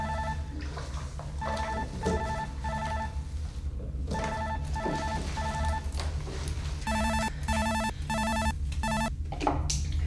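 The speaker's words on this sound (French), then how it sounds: "On m'appelle sur le fixe." Landline telephone ringing indoors in repeated electronic ring bursts, several rings in a steady pattern over a constant background hum, with no voices during the rings.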